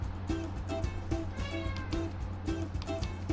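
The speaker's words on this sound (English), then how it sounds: "we got a cat meowing as well with us today" A cat meows faintly in the background, a few short cries scattered over steady humming noise and game sounds, with a voice talking now and then.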